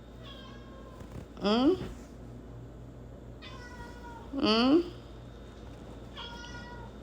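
A kitten meows twice, each a loud rising-falling cry, with a person murmuring quietly in between and a steady low background hum.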